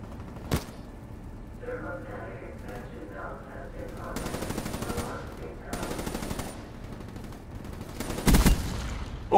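Automatic weapon fire from Call of Duty: Black Ops III on the Cryogen map, with several loud rapid bursts and single shots over background game noise.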